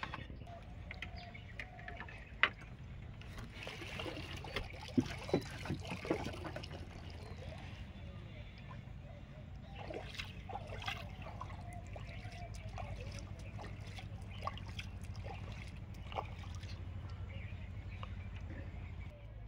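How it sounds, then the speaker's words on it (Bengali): On a boat on a river, cut potatoes are rinsed, with soft, quiet trickles and splashes of water and a few knocks under a low outdoor background. "তো আলু কাটা হয়ে গেছে, এবার আলুটা ধুয়ে নেবো।"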